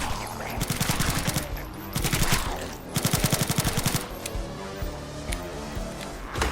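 Rapid automatic gunfire in the video game PathogenX, fired in several sustained bursts with short pauses between them, loud and close, with game sounds underneath and no clear talking.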